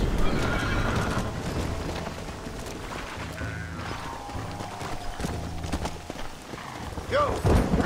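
Horses race in the Western game Red Dead Redemption, with loud neighs and whinnies over rapid galloping hoofbeats, a sharp whinny rising near the end, mixed with game sound effects and a voice talking at times.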